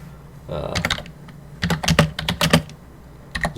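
Fast bursts of computer keyboard typing as a number is keyed in on a Raspberry Pi setup, clicks arriving in quick clusters with short pauses between them, close and fairly clear.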